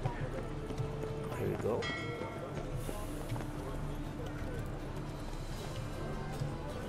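Roach the horse trotting in The Witcher 3, a steady run of clip-clop hoofbeats under someone talking, with a short whinny-like sound near the start.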